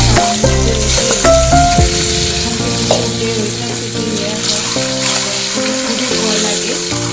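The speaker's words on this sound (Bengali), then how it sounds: "তেলে ডিমগুলো ভেজে নিচ্ছি।" Eggs fry in hot oil with a steady, loud sizzle that runs throughout, broken by occasional clinks and stirring sounds. A low musical tone sits in the background, and no one speaks.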